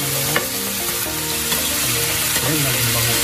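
Baby octopus adobo fries in a hot pan while being stirred, a steady dense sizzle running throughout with faint scraping of the utensil, though music or other sounds partly overlay it.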